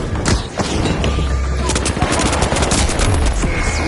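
Dense, rapid gunfire crackles nonstop in the video game The Finals, with explosive booms from a grenade mixed into the constant battle noise.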